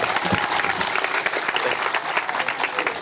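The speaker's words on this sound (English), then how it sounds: "Clap it up for Mr. Miller" Dense, continuous audience applause at an outdoor statue unveiling ceremony in Columbia honoring Dawn Staley, loud and steady throughout with no pauses.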